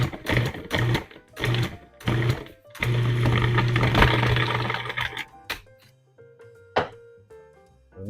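Food processor pulsing butter into a pie crust flour mix, four short whirring bursts followed by a longer run, loud and close, then a few clinks.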